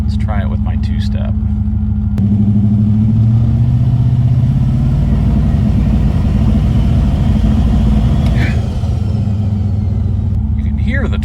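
A turbocharged Dodge Diplomat engine holds on a two-step with a loud, rumbling drone as the turbo spools up, the load building steadily for several seconds; brief talk is heard at the start and end.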